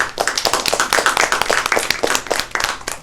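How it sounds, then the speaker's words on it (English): Staff at a monthly results meeting give the team a round of applause: brisk, close clapping from a small group, with individual claps distinct and a steady rhythm for the whole stretch. "let's give a big round of applause to the whole team"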